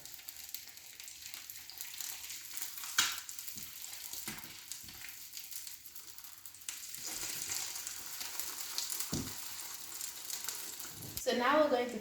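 A well-done egg frying in a pan after being flipped gives a soft, steady sizzle with a few small taps and scrapes. A louder crackle of fat comes near the end.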